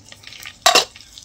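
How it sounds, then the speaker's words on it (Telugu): Tempering spices hit hot oil in a home kitchen pan and are stirred, giving one short, loud burst of sizzling scrape near the middle against quiet kitchen background. "సరే ఏమో తాలింపులు వేస్తాను చూడండి"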